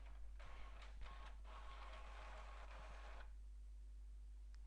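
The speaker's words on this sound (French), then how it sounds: "Et là, ça imprime." An office printer prints a document, giving a faint whirring, rasping mechanical run of about three seconds with a few clicks and thumps before it stops and leaves quiet room tone.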